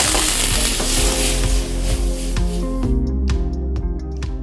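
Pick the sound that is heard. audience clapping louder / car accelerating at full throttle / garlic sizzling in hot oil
garlic sizzling in hot oil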